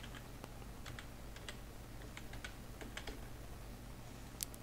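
A computer keyboard is typed on at a Windows 10 machine as a command is entered, with irregular light clicking keystrokes, close and fairly quiet, and one sharper key tap near the end.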